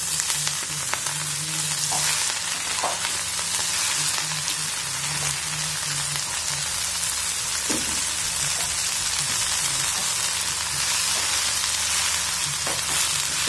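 Fenugreek leaves sizzle steadily in a spoonful of hot oil in a pan, a continuous crackling fry with occasional soft scrapes and knocks as the leaves are stirred.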